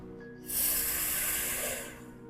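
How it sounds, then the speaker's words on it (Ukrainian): Someone draws one long, steady inhale through clenched teeth during a calming breathing exercise, a close, breathy hiss that swells quickly and tapers off after about a second and a half, with no talking. "продовжуємо дихати вдих через стиснуті зуби"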